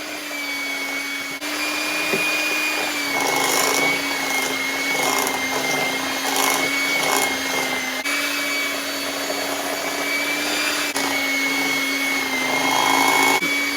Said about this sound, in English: And with the mixer on low, we're going to add in